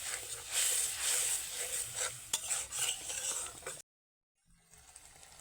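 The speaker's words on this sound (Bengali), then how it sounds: "যতক্ষণ না পর্যন্ত তেল ছাড়ছি তত সময় পর্যন্ত মশলাটাকে কষিয়ে নিতে হবে" Spice paste for a sour prawn curry is sautéed and stirred in a pan. A spatula scrapes and clinks against the metal over a low sizzle, then the sound stops abruptly before faint frying returns.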